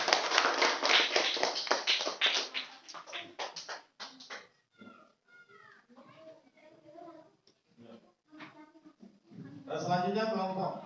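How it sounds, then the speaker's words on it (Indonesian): A classroom of children claps for a classmate in a quick, lively patter of many hands, which then fades as a teacher's voice and children's speech take over. "kita kasih aplaus dulu untuk temannya"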